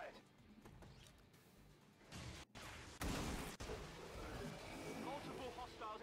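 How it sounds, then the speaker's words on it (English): A heavy Shredstorm cannon blasts in XCOM 2, landing as one loud, harsh burst midway through. Crashing impact noise follows, layered over game ambience and music. "I think that's an excellent chance to use our Shredstorm cannon."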